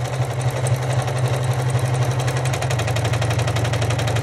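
An embroidery machine sews the side seams of a quilted project, a steady rapid mechanical stitching hum with fine rhythmic pulsing that runs unbroken and loud, with no talking.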